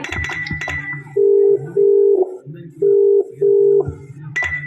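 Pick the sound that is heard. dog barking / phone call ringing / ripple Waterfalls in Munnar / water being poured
phone call ringing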